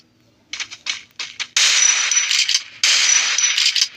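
Gunfire in the Free Fire mobile video game: several short bursts of sharp shots, then two long sustained volleys of rapid automatic fire, loud and close, with no talking.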